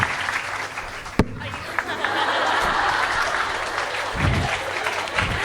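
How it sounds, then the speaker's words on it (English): A concert audience at a Carnatic music and yoga day event applauds steadily, with a sharp click near the start, brief chuckles and a low voice murmuring beneath the clapping. "Round of applause for Revati again."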